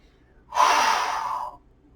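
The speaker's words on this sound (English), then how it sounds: "Take a few breaths here." A single long, breathy exhale lasting about a second, loud and close, heard alone during a Pilates mat hold.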